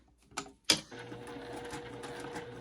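A sewing machine stitches with thick thread on a hoop wall hanging, starting with two sharp clicks before a steady, close mechanical whir runs on evenly with no talk.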